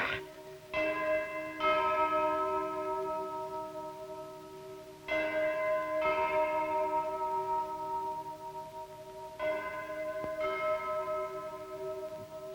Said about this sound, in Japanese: 月夜になる鐘か